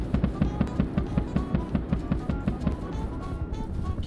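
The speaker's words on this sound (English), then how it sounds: "Oh, it's shooting at someone up here." Rapid gunfire in Rust, a steady string of sharp repeated shots at an even rhythm, moderately distant and fairly quiet, continuing without a break.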